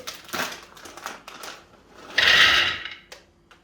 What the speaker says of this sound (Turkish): fındıkları çekiyorum